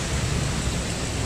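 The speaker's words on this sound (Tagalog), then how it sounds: "Lakas ng ulan." Dense, steady roar of heavy rain pouring down, with a deep low rumble underneath that suggests thunder.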